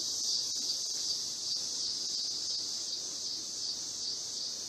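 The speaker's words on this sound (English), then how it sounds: "I hear the crickets outside." Crickets chirp in a steady, high-pitched shimmering chorus, continuous and moderately loud, with no voices over it.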